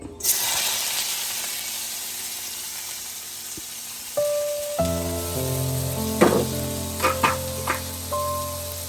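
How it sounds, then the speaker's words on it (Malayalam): Chopped onions drop into hot oil in a wok and sizzle steadily, a loud continuous frying hiss with small crackles and a few clinks of a spoon against the pan. "അപ്പൊ നമുക്കിനി സവാള അരിഞ്ഞു വെച്ചത് നമുക്ക് ഇട്ട് കൊടുക്കാം അതിലേക്ക്"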